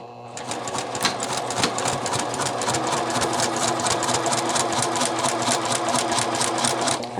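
A sewing machine runs continuously, stitching a pocket bag for a double welt pocket, its fast rhythmic needle chatter steady and close for the whole stretch.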